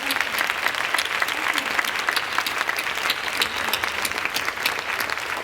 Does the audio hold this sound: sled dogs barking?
no